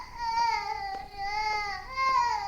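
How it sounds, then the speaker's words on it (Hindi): An infant cries in a wavering, high-pitched wail, breaking into several sobbing bursts with short catches of breath between them, close and clear against a quiet background. "बच्चे के रोने की आवाज गूंजी।"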